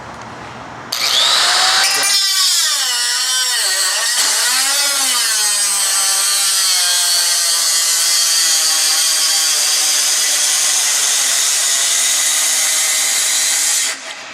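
Bosch DG300LPD electric paddle-switch die grinder cutting thick 14-gauge sheet metal: a loud, sustained high-pitched whine that winds up, wavers as the wheel bites under pressure, then holds steady for over ten seconds before cutting off.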